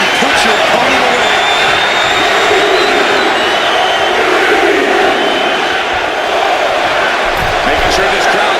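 A loud, dense arena crowd roar inside the WWE 2K25 wrestling video game, a steady wash of cheering that never lets up, with scattered thuds from the ring underneath.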